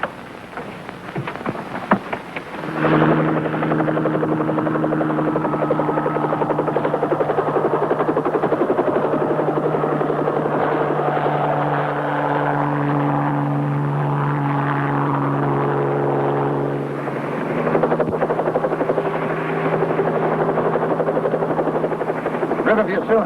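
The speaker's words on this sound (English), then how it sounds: "You guys got a copter to fly." Helicopter engine and rotors droning steadily up close in a vintage TV drama, a loud sustained whine with shifting pitch that fades slightly near the end.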